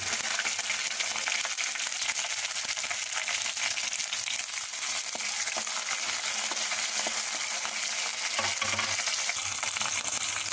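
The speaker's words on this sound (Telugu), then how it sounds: "కొంచెం గోలాక పచ్చిమిర్చి వేసుకుంటున్నాను." Green chillies and dried red chillies frying in hot oil, a dense, loud, continuous sizzle with occasional stirring clinks, close up and with no one speaking.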